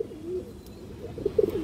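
Silver bagha pigeons coo softly, with a few low throaty bursts near the end. Nobody speaks over them.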